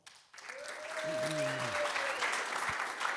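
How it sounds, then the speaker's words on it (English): Applause for a speaker at an analytics talk, clapping building from quiet to a steady moderate level and holding, with a voice briefly audible over it. "Big round of applause."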